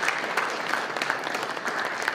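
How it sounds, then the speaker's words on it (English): A presentation audience applauds steadily, dense even clapping from a sizeable crowd sustained without pause. "Let's give a round of applause to Corey."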